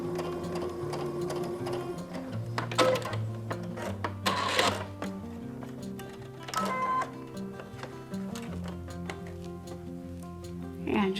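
A home sewing machine stitches a fabric face mask in stop-and-start bursts, back and forth, its motor whirring and needle ticking close up, with a voice speaking softly in places.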